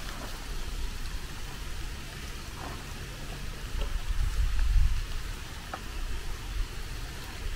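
Steady rain pours outdoors in autumn on the Sea of Japan coast of Yamaguchi Prefecture, heard from shelter during a walking trip. It forms a continuous hiss with occasional louder drops, and a low rumble swells in the middle.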